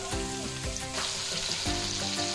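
Onion and garlic sauté in hot oil in a Filipino home kitchen, a steady close sizzle with soft stirring scrapes and no voices, as aromatics are cooked for yellowfin tuna in coconut milk.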